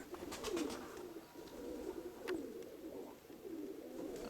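Pigeons, including an old female, coo softly in low, throaty repeated calls against a faint background hum, with a few light ticks and rustles nearby.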